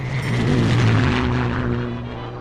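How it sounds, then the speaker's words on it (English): An early propeller airplane drones steadily overhead, its engine hum swelling in the first second and then easing slightly as it passes at a moderate distance, with no voices. "when Amelia attended a stunt flying exhibition, she saw what these flying machines were capable of"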